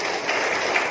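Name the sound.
audience applauding for the Pasek family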